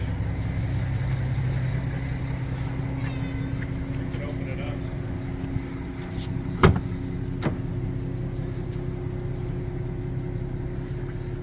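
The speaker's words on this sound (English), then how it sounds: "Pre-runner truck for OMYF." Idling off-road pre-runner race truck built for Baja 1000 desert racing, a steady low engine rumble running throughout, with a couple of sharp clunks near the middle and faint voices in the background.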